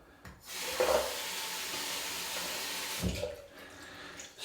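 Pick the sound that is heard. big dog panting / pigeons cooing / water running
water running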